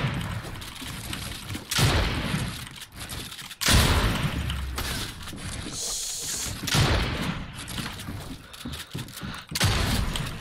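Gunfire in Fortnite, with loud bursts and booms in several clusters separated by quieter gaps, plus impacts and shattering, mixed with occasional voices.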